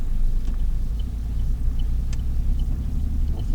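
A manual car rumbles along at low speed during a learner driver's first lesson, steady engine drone and road noise with faint clicks, no talking.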